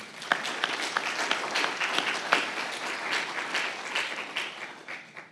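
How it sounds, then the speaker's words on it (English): A crowd claps steadily at a university alumni gathering honoring former vice presidents for student affairs, a dense, fairly close wash of many hands with a few sharper individual claps, sustained for about five seconds with no talking. "A big round of applause for them."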